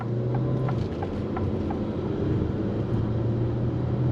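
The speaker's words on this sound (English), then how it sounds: "Let's go on throttle again from a dead stop here." A 2024 Alfa Romeo Tonale SUV pulls away from a dead stop, heard from inside as a steady low engine drone and road rumble at moderate volume.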